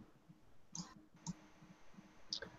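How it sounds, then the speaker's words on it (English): Computer mouse clicks in the background of an online debate call: a few faint, sharp, isolated clicks spaced irregularly over a low murmur of room noise. "A lot of mouse clicking."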